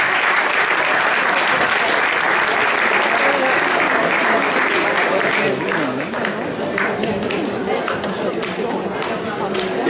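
Audience applause for choirs on stage at a French choral concert, sustained dense clapping throughout, loud and steady, easing slightly toward the end with some crowd voices mixed in.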